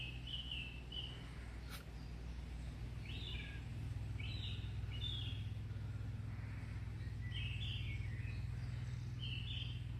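Birds sing in the Irish countryside, a song thrush among them, with short bright phrases repeating every second or so over a steady low rumble like distant traffic.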